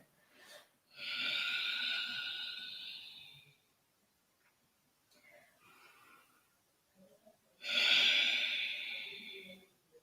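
During a Pilates toning exercise, strong breaths are drawn in and pushed out close to the mic. Two long, loud exhales rush out with quieter breathing between them, and a voice sits in the background.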